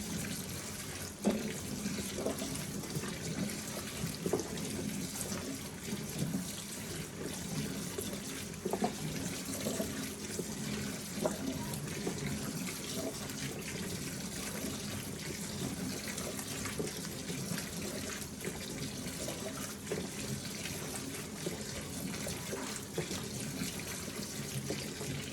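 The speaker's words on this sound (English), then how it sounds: "this time I'll pour water over them and rinse them off real good" Steady quiet splash and trickle of water poured over dried beans to rinse them before pickling, a continuous low wash with small intermittent drips and clinks throughout.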